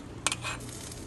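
A spoon stirring chicken gnocchi soup in a pot, a couple of quick metallic scrapes and clinks followed by a soft swish, faint and close.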